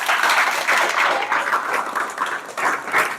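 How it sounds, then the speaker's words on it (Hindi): Steady clapping from a group of students at a coaching center ceremony honoring weekly test toppers, continuous and moderately loud for a few seconds with slight swells. "जोरदार तालियां।"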